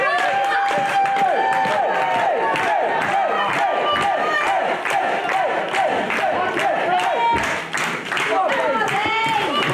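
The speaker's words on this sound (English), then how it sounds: "Crowd encouraging Dinger to his feet." A wrestling crowd cheering, clapping and shouting to rouse a wrestler at a live show, a loud and continuous din with rhythmic claps throughout.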